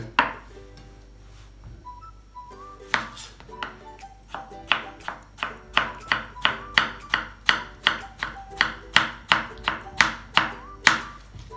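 A knife chops onions and tomatoes into thin strips for chana chaat, starting with a few scattered taps and then settling into a fast, even run of sharp, close board knocks.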